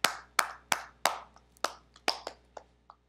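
Sparse hand claps, about a dozen sharp distinct claps in an uneven rhythm, fairly faint and with no talk.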